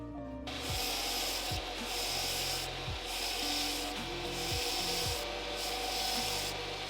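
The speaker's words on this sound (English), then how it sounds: "I decided to add an extra step by scotch brightening it because this was raw titanium" A Scotch-Brite pad scrubs raw titanium in steady, close back-and-forth rasping strokes, a continuous abrasive rub with rhythmic pauses and no voices.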